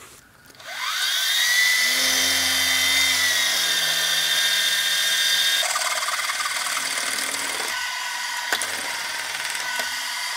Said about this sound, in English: I'll turn the part 120 degrees and I'll drill another hole.